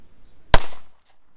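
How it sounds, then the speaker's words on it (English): A single sharp, loud shot from a Kel Tec PF9 9mm handgun rings out close by at an outdoor target, followed by a brief decaying echo and then quiet. "just popping off 7 rounds right at it"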